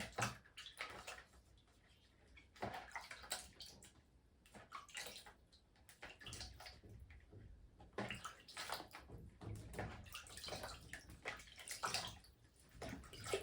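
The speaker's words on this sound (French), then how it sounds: "je lui fais comme une petite douche, simplement. Pour nettoyer un peu ses feuilles." A small shower of water sprayed over the leaves of a potted hoya plant to clean them, producing a close, continuous hissing spray in uneven bursts with no talking.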